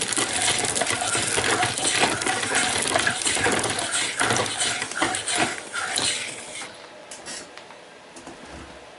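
Rice being hulled by hand for a second pass, a dense, continuous gritty rattling and crunching of grains that stays loud for about six seconds, then thins to scattered clicks and softer rustling, with no voices.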